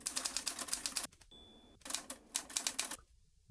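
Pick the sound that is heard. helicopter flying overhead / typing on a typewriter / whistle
typing on a typewriter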